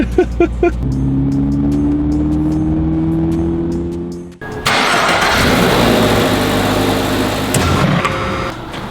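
A 2022 Subaru BRZ's engine, with its original exhaust, cranks and catches, idling with a steady drone, then roars loudly as it revs up and holds a high, rough growl.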